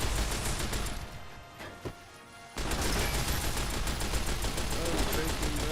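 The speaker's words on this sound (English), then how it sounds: "this guy has a minigun" Rapid, continuous minigun fire in Fallout: New Vegas, a dense mechanical stream of shots that cuts out briefly midway, leaving a quiet gap with a single stray report, then resumes at full force.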